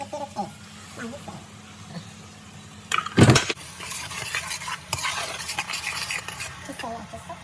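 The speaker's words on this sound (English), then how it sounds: "we're just sauteing the garlic, the green peppers and the onions together with the oil" Garlic, green peppers and onions sauteing in oil for arroz con pollo, with a soft sizzle, a sharp clatter of a utensil against the pan partway through, then stirring scrapes while a person talks.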